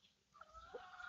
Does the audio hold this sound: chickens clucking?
yes